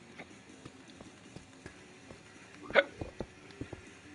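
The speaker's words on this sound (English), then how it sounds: "why do I have the hiccups?" A single sharp hiccup bursts out partway through, set against quiet background clicks and soft game sounds.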